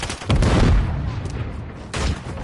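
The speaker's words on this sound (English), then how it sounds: "Throwing a stun grenade!" A stun grenade going off in a video game, two loud close bursts with a booming thud and short rumbling tail, alongside a shouted voice.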